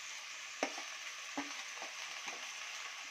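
Onions and spices with coriander powder being sautéed for a Kerala okra tamarind curry, a steady faint sizzle broken by a few soft stirring scrapes against the pan.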